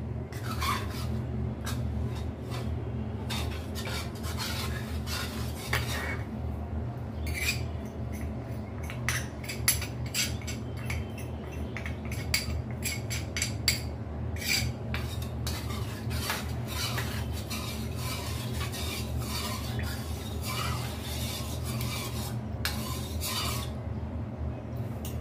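Custard powder and cornflour being stirred and mixed for custard kunafa, a steady rubbing, scraping sound of a utensil against a bowl with frequent clinks, continuous and close.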